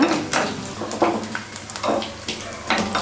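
Ground coconut sautés in coconut oil in a small tadka pan, giving a soft sizzle broken by repeated scraping and clinking of a spoon against the metal pan.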